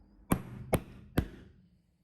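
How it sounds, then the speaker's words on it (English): SINABROKS pricking irons struck through leather, three sharp, close mallet blows spaced about half a second apart, each a crisp knock that dies away quickly in quiet surroundings. "Here I have completely punched through the leather and will not need to use an awl for stitching"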